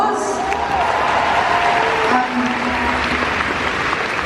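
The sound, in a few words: audience applause at Doctor Who panel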